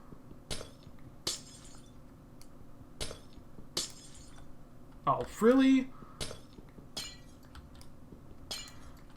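Glass blocks shatter one after another in Minecraft, a string of sharp, bright clinks and cracks spaced about a second apart, with a brief spoken exclamation midway.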